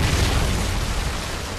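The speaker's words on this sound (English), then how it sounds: "Friendly Predator missile inbound." A Predator missile strike in the shooter game Modern Warfare 3 lands as a heavy, close explosion, a loud rumbling blast with broad noisy decay that fills the short moment.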